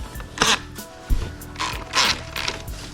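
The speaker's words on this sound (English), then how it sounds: "you can use a wrench or whatever, but this is what I have in hand" A small hand tool ratchets on the bolts of a fish finder mount on an Old Town kayak, giving several quick clicking bursts at close range with no talk.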